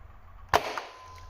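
A Nerf Longshot sniper blaster fitted with a rifling attachment fires a single dart, giving one sharp, close pop with a short trailing rattle against faint background hum.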